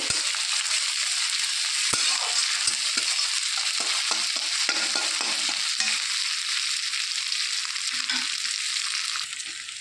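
Steady sizzling and frying in a pan as onion, ginger-garlic paste and green chili are stirred, with soft scraping strokes of a spatula under a continuous hiss, close and alone.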